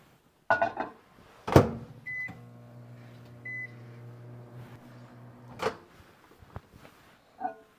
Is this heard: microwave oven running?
yes